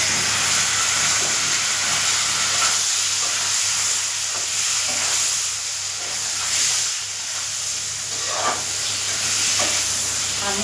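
Boiled flat beans go into a frying pan with turmeric for sim paturi. A close, steady sizzle hisses throughout, with faint stirring scrapes and no talk.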